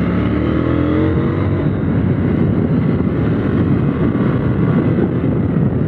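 KTM 890 Duke R motorcycle accelerating in third gear around a kart track, a steady, loud engine drone with heavy wind buffeting throughout, no pause or break.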